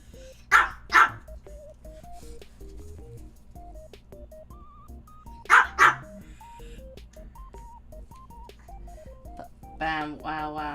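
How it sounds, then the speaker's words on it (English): A dog barks at close range in two quick double bursts, one near the start and one midway, each a pair of sharp yaps, while a person talks over a quiet room and game background. "My dog's screaming at me."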